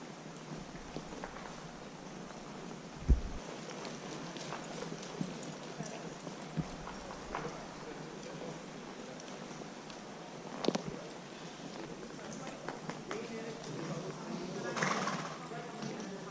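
A ridden horse clip-clops with faint, soft hoof falls in an uneven rhythm, with a few sharper knocks, under a trainer's instructions.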